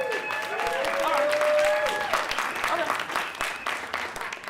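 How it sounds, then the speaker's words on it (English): A comedy club audience claps in a sustained burst of applause that swells and then thins out, with a voice talking over it near the end. "you clap."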